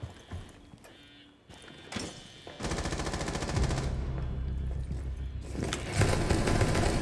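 Automatic gunfire in Rainbow Six Siege, a sustained rapid rattling burst of shots running through most of the stretch over a low rumbling bed, with a short lull and a second loud volley near the end.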